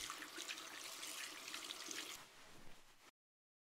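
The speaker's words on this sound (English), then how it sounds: "Please wash your hands." Hands are washed under a running tap into a sink, a steady close rush of water with splashing that thins out before the flow stops abruptly.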